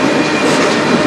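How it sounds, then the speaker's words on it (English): A CN freight train passes on the Strathroy Subdivision in Sarnia, Ontario, a brief, loud, steady roar of wheels and rolling cars close by, with no talk. "I heard we got a special train coming"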